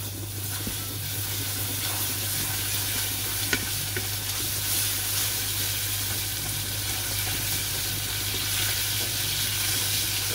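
Butter sizzles and bubbles in melted caramel in a pan, a steady loud hiss with a low hum beneath and occasional stirring clicks, no voices.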